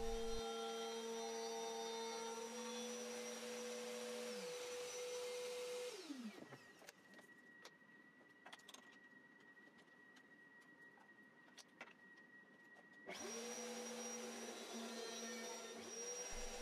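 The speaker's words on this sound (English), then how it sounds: "I cut out the battery pocket by routing freehand" A handheld router cuts a battery pocket freehand into a wooden board, a loud steady high whine running for several seconds, dropping away as it spins down, then starting up again after a quieter gap with faint tapping.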